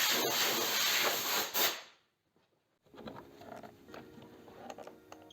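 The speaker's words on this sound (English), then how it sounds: "An air compressor can also be used to blow away leftover grass and dirt." An air compressor blows leftover grass and dirt off a robotic lawn mower during winter servicing, a loud close hissing blast that cuts out, then resumes as weaker sputtering bursts.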